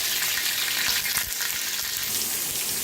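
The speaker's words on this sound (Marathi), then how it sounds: "आता तेल चांगलं तापलंय त्याच्यात टाकले मिरच्या" Green chillies frying in hot oil for masala rice give off a loud, steady, close-up sizzle that hisses continuously throughout.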